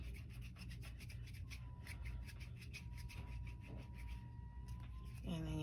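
Donut topper craft material being rubbed out by hand, a steady close rasping friction that runs continuously under a low background hum, ending with a brief squeaky sweep.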